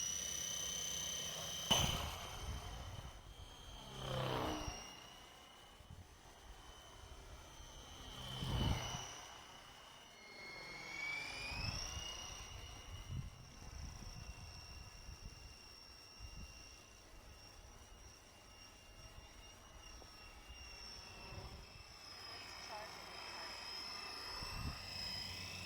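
An ESky 300 V2 belt-drive R/C helicopter in Airwolf styling flies throughout, its rotor whine rising and falling as it passes close and moves away, with a steady high motor tone and no talk.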